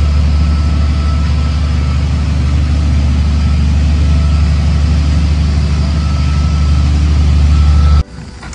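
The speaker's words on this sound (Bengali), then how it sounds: "রাতুল গাড়ি বার করছে" A car's engine runs loudly and steadily at close range as the car is backed out at a forest hotel on a road trip, a heavy low rumble that cuts off sharply near the end.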